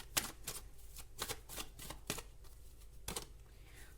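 Tarot cards being shuffled and flipped, a series of crisp riffling snaps and flicks at uneven intervals, close and fairly quiet.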